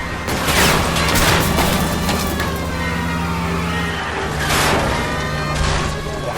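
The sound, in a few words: gunfire during a shootout in the video game L.A. Noire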